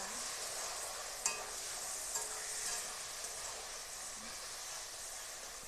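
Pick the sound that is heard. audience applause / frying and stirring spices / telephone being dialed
frying and stirring spices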